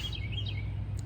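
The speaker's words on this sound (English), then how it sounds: "Birds are chirping." Small birds chirp outdoors on a mild day near a dumpster and pallets, brief high calls that sound faint and a little distant over a steady low background hum.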